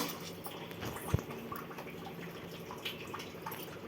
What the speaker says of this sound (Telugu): ఇగో ఇలా మరుగుతున్నది కదా